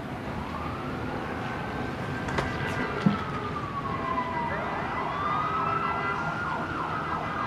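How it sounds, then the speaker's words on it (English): Several emergency sirens wail at once, their rising and falling tones overlapping from a distance over a steady background rumble of traffic. "Does that sound like a lot of sirens to you?"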